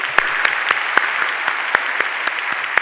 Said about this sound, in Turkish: alkış alabilir miyiz efendim?